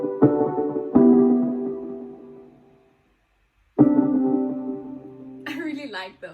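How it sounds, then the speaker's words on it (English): Bright, punchy synthesizer stabs ring out with long decaying tails, a pair of hits, a pause, then another, ending under a brief voice. "There's some synth hits that you might not have heard in the second verse"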